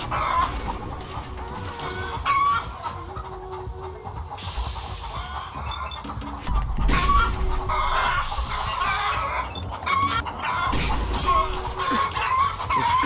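Roosters fighting in the Fallout 4 video game, clucking and crowing repeatedly over a steady game background, with bursts of louder action throughout.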